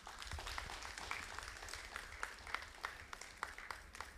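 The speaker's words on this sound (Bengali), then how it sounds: "আপনাদের জন্য একবার জোরে করতালি হোক" Audience clapping fills an auditorium after a Bengali dance drama, a steady dense wash of applause at moderate distance with sharper individual claps popping out throughout.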